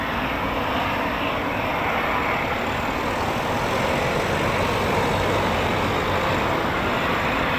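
A Eurofighter Typhoon FGR4 jet lands at RAF Coningsby using aero braking, its engines giving a loud, sustained broadband roar that stays steady and close throughout, with no voices.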